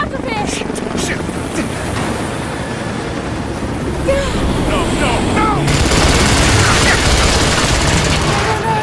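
Sustained automatic gunfire in Rise of the Tomb Raider under a loud, continuous helicopter rotor drone, with shouted voices mixed into the din throughout.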